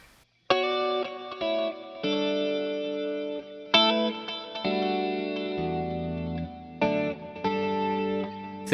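Clean electric guitar plays a sequence of notes and chords, each ringing out with lush reverb and delay trails.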